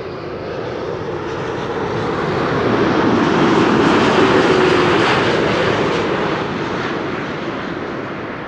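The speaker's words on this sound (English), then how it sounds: "a 787-8 Dreamliner arriving from Willemstad, Curaçao." A ten-year-old Boeing 787-8 Dreamliner arriving from Curaçao passes overhead with a broad, roaring jet rush that swells to a loud peak and then slowly fades, steady and alone.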